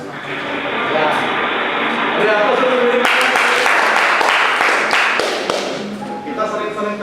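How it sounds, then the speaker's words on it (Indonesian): A class of students claps together in a classroom during a lesson, a burst of sharp, dense, overlapping hand claps starting partway through and mixed with voices and room noise. "Kita sering-sering tepuk tangan untuk memotivasi diri kita ya"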